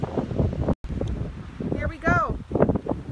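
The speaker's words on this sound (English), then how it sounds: "I know it's windy, so there may be some wind noise that might get a little annoying" Gusty outdoor wind buffeting the microphone in a garden by raised beds, a steady low rumble under someone talking throughout.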